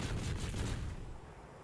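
Naval guns of the USS Helena cruiser fire in a video game match, a dense rumbling burst of booming shots that fades over a second and a half.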